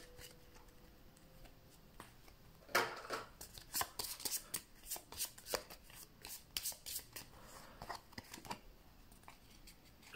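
Cards for the board game Explorers of the Woodlands are handled and shuffled, a quiet run of quick papery flicks and snaps following an earlier louder rustle, all close and without talk.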